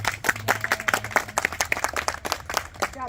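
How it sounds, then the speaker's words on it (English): A small group gives a round of applause, with distinct separate claps in an uneven rhythm, fairly close and moderately loud, with a faint low hum underneath. "one last round of applause"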